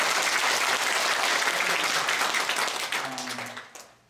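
Audience applause at a traditional market merchants' association workshop in South Chungcheong, a dense steady clapping from a crowd that carries for about three seconds and then trails off into scattered claps.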